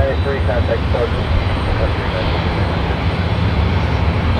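An airliner on approach to Tampa airport roars steadily and loudly overhead, its engine noise constant throughout with faint voices in the background.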